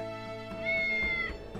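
A single short cat meow from the video game Star Ocean The Divine Force, heard clearly over a soft musical background.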